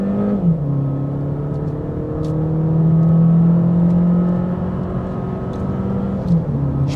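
A 2024 Mercedes A-Class accelerating in sport mode, heard from inside as a loud, steady engine drone that rises slightly in pitch and then eases, with no talking.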